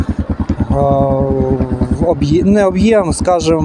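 A Shineray CXR 250 four-valve motorcycle engine idles with a steady, deep low pulsing, briefly alone and then under someone talking close by.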